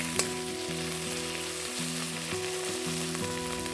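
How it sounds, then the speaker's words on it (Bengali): Masala and tomato sauté in a pan for a spicy Maggi dish, giving a steady close sizzle with light stirring and a faint background hum, with no talk. "নর্মাল যেমন আপনারা মশলা কষান তেমন কষিয়ে নেবেন অল্প করে"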